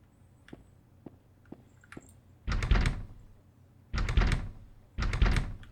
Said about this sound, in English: the player cannot open the door and a sound effect will play